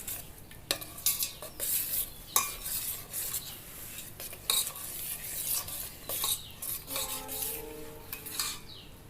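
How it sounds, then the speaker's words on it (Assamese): Mango pickle in mustard oil is stirred by hand, with repeated close scraping and clinking of a utensil against the bowl in an irregular rhythm, with no voices. "এইখিনি এতিয়া মই গোটেইখিনি ভালদৰে মিক্স কৰি ল'ম।"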